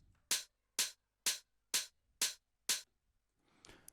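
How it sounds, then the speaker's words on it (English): Layered open hi-hats and a shaker hat in a drum production play together as six evenly spaced crisp, sizzling hits, each decaying quickly, followed by a softer rustle at the end. "And then I've got this third open hi-hat layer"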